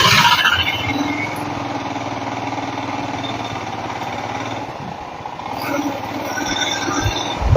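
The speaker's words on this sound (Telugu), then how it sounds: "బైక్ శబ్దం ఉంటుంది కొంచెం" A motorbike runs near an ancient stone dam built by Karikala Chola, its engine a steady, unbroken drone with a low hum and a brief dip in the middle, heard alone with no talking.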